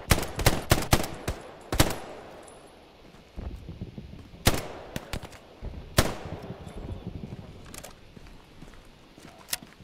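Sharp, loud rifle and machine-gun shots crack in a Hell Let Loose World War II battle, a quick volley at the start and then isolated shots with echoing tails against a quieter background.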